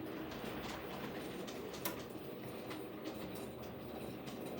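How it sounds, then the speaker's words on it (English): A small model train rumbles steadily along its track, a continuous rolling clatter with a faint bird cooing in the background. "I love it when the little train goes through this little pass"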